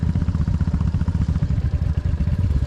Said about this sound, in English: the old Kent cam kicking in coming up that hill